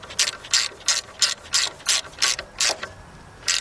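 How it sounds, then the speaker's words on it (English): A ratchet tightens a nut on the alternator of a 1993 Nissan Altima, giving about nine quick, evenly spaced clicking strokes up close. "So let's go over here and tighten that up."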